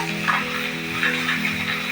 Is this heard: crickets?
no